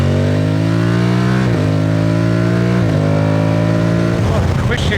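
Aprilia Tuareg motorcycle engine revving hard at high rpm, its loud steady drone stepping through quick-shifter gear changes as it accelerates, with the pitch climbing between each brief dip.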